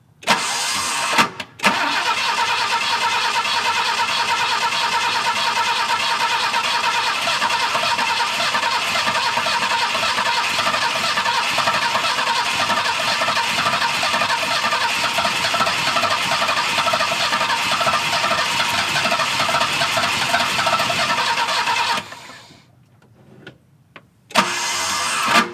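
A 1969 Volvo 164 being started after 17 years off the road: a brief crank, then the engine catches and runs steadily for about twenty seconds, loud and close, before dropping away and briefly restarting.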